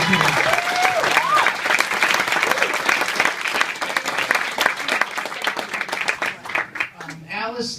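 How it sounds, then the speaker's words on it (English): A room of guests applauds during wedding-style toasts, a full, sustained burst of clapping with a few voices and a brief whoop mixed in, tapering as a speaker resumes. "I think we owe them a big round of applause for this great special event."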